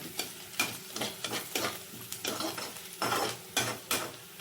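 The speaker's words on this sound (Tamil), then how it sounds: "வெங்காயம் நல்லா வதங்கப்பா." Onions sauté in a pan for homemade egg rice. A utensil stirs and scrapes them in repeated bursts over a soft sizzle, close and fairly quiet, with no talking.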